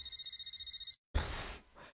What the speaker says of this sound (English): A beeping noise suddenly emanates from Mrs. Ibarasaki's pocket.